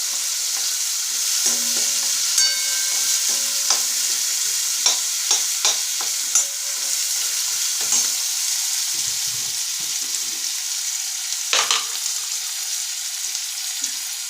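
Finely chopped onions fry in a pan under a constant hiss, broken by repeated sharp clinks and scrapes of a spoon stirring them close by; nobody speaks.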